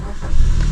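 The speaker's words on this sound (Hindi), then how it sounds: "अब मैं गाड़ी को स्टार्ट कर लेता हूँ" A car engine, used on a manual car for hill clutch-control practice, turns over and catches, settling into a steady mid-pitched running rumble that fills the short moment with no talk.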